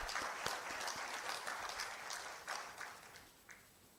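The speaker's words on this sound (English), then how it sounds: "Can you all please give yourself a big round of applause?" Applause from the audience at the inaugural session of a 2017 conference, dense clapping that is fairly faint and distant and fades toward the end.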